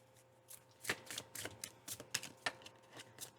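A deck of tarot cards is shuffled close by, producing a rapid series of papery flicks and riffling slaps in uneven bursts, with no voice over them.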